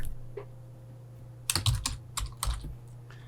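Keystrokes on a computer keyboard while entering Kotlin code for an Android audio recorder app, a quiet lead-in followed by a cluster of close, crisp clicks in quick irregular bursts over a low steady hum.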